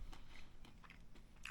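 Quiet, close crunching and chewing of Doritos-battered chicken breast with sauce, a few soft crisp bites and scrapes ending in a sharper crunch.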